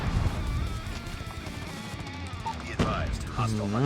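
Dense, continuous bursts of rapid gunfire in the game Call of Duty: Mobile fill the clip, with a sharper crack near the end and voices faintly underneath.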